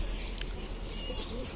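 Pigeons coo softly amid a noisy, rushing background, with a low murmuring call rising briefly out of the hiss.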